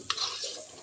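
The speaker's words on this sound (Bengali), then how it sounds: "খুব ভালো করে নেড়ে নিচ্ছি।" Cauliflower paste being stirred in a pan of oil, a single short scrape with a soft sizzle underneath, close and fairly quiet.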